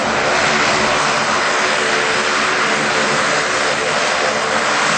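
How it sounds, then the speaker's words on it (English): A C-27J Spartan twin-propeller military transport approaches at a trade show, a loud, steady broadband engine-and-propeller drone that fills the whole stretch without a break. "As the aircraft comes up here towards us"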